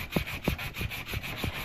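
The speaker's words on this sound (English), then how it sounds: "So I'm just going to go ahead and keep sanding for a bit." Sandpaper rubbing on the bulb of a wire earring gives steady rhythmic strokes, about five or six short scratchy passes, quiet and close with no voices.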